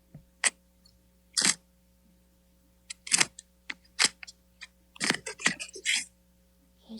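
Short bursts of tearing, crackling noise as duct tape is pulled off a roll, coming in quick separate strips with brief quiet gaps between.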